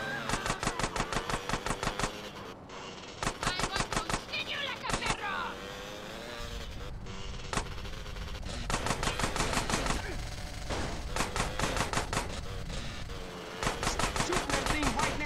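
Rapid automatic gunfire in GTA San Andreas Definitive Edition, with repeated loud bursts of fast shots separated by short gaps over engine and street noise. A person talks throughout.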